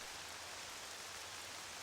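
In The Legend of Zelda: Twilight Princess, steady rain falls as an even, constant hiss, faint and unbroken, with no voices.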